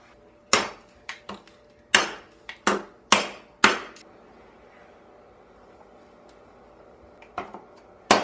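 Sharp wooden knocks as tight dado joints in a wooden dice tower are hammered into place: a series of irregular strikes, some in quick pairs, close and distinct over a quiet room, ending with a few spaced taps.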